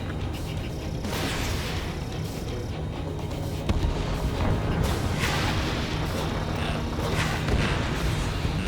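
Combat aircraft in Ace Combat 7 trade gunfire and explosions in a steady, dense roar of rumbling blasts, thuds and engine noise with no break.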